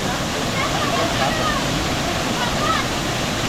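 A waterfall pours in a steady, broad rush of water close by, with people talking over the constant roar.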